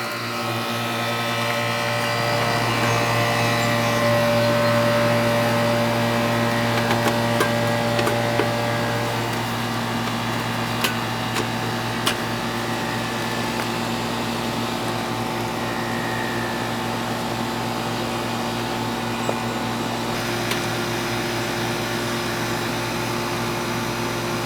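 A Goodman air conditioner condenser unit with a dead compressor and a working fan runs with a steady, droning mechanical hum and whir, close and continuous, with a few faint clicks and no talk.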